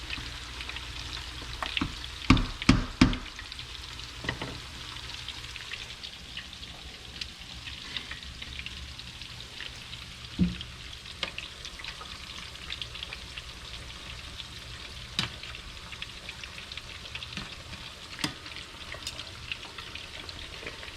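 Meatballs fry in oil heated to 350 degrees, a steady soft sizzle with scattered pops and crackles, close but quiet, and no one speaking.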